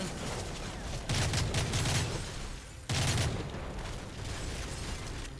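Gunfire in the video game Call of Duty Modern Warfare 3 comes as two bursts of rapid shots with a sharp, loud attack, separated by a short pause, over a steady background hiss.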